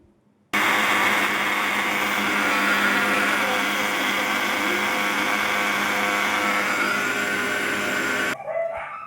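A kitchen mixer grinder whirs loudly and steadily for about eight seconds, grinding fresh coriander leaves, then cuts off abruptly.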